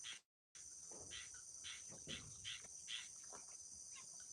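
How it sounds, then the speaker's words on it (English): A frog calls at night in a quiet rural outdoor setting, faint repeated croaks sounding in a loose rhythm beneath a constant high insect chorus, after a brief dropout at the start. "That's a frog"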